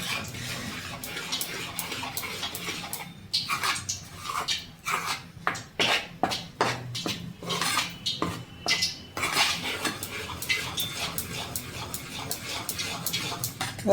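Spinach sev dough is mixed by hand in a metal bowl, giving rapid rhythmic clattering and scraping knocks, loud and close, in uneven bursts.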